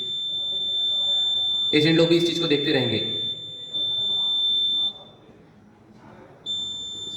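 A long steady electronic beep from an electronic voting machine as old votes are cleared during a mock poll, loud and continuous, with someone speaking over the middle of it before it cuts off and returns briefly.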